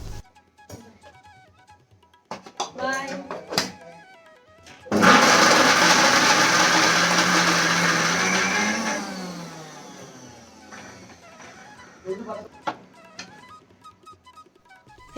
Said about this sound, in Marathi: आपण आता या सोयाबीनचा खिमा करून घेऊयात मिक्सरमधून बारीक करून घेऊयात